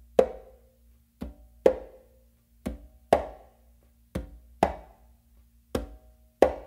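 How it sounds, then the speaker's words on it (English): Hand-played conga strikes, alternating open tones and palm slaps near the edge of the drum head, about nine crisp hits in a steady tumbao pattern, close and alone with short decays. "you're going to do like a palm slap, but it's like near the edge of the drum head"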